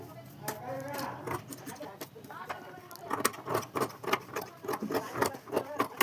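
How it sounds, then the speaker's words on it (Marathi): Scissors cutting leftover fabric straight while sewing a small mobile pouch, a close series of crisp snipping clicks that quickens into a steady rhythm, with someone talking over the first part. "आता राहिलेले उरलेले कापड सरळ कापून घ्या."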